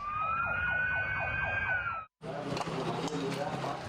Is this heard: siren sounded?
yes